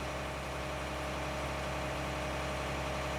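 Tractor engine idling in Farming Simulator 19, a steady low rumbling drone with a constant vibrating hum, moderately quiet and unchanging, with no talking.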